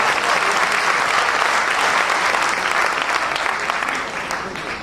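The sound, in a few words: audience applauding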